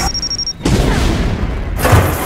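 A heavy, loud boom of an explosion from an animated movie trailer for The Addams Family, striking sharply after a brief tone and rolling on as a dense, sustained rumble.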